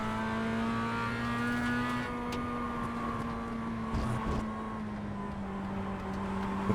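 A race car in iRacing, K5 Championship, accelerating out of a corner on a drying track at Motorsport Arena, its engine a steady, close droning whine that holds a sustained pitch throughout.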